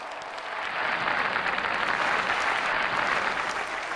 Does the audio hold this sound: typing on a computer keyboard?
no